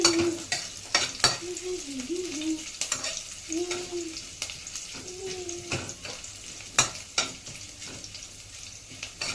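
Green chillies, cumin and curry leaves fry in a pan for a fasting potato dish, a soft sizzle punctuated by regular sharp stirring clicks, while a faint voice hums or murmurs underneath.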